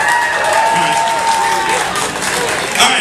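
Audience applause at opening announcements aboard a cruise, a steady wash of many hands clapping from a crowd that fills the whole short stretch.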